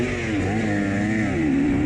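Dirt bike engine during a cross-country trail race at Goertz Ranch, a close, loud and steady buzzing drone that climbs slightly in pitch as it revs.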